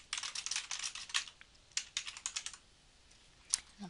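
Rapid typing on a computer keyboard, close and crisp, in quick bursts of key clicks with short pauses and a final lone keystroke, no voices.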